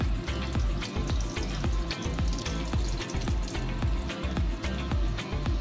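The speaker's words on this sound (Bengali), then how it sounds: "এবার এক পিঠটা ভাজা হোক, তারপর উল্টাবো।" Dense, crackling sizzle of egg devils frying in hot oil in a pan, with constant spitting pops and bubbling, close and steady throughout with no voices.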